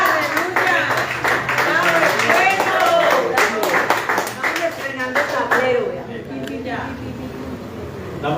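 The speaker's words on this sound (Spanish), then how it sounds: "Démosle un aplauso a la" A church congregation claps in dense, loud applause that fades somewhat toward the end, with voices talking over it.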